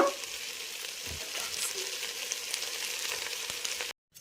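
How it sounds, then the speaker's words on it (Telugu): Flattened rice (poha) tossed into a pan and stirred, the food cooked without water or oil; a steady close hiss of dry sizzling with soft scraping runs throughout, cutting off abruptly near the end. "ఇప్పుడు మనం అటుకుల్ని వేసేయాలన్నమాట"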